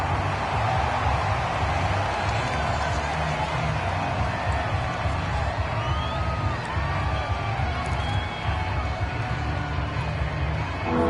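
Steady stadium crowd roar in the Madden 22 football video game, a dense continuous wash of cheering and murmur at even loudness throughout, with faint whistles and shouts rising above it.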